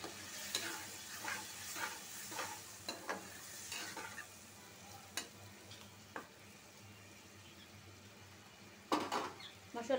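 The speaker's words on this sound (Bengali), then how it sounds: "আর একটু সামান্য পানি দিব, মশলাটা কষানো হোক সুন্দরভাবে" Spice paste for a rohu fish curry, loosened with a little water, is stirred in a pan with a soft sizzle. A spatula scrapes in a rhythmic run of strokes that thins out, then picks up again near the end.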